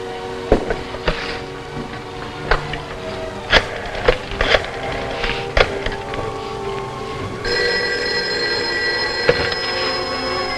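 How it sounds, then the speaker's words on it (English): Telephone ringing in a 1950s television drama, with sharp intermittent rings and clicks over a steady background, the tone changing partway through; no talk. "I'm going to call you on this other phone."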